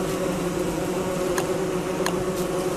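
A bee in Don't Starve Together buzzes steadily and close throughout, a continuous droning hum with faint clicks and game ambience behind it.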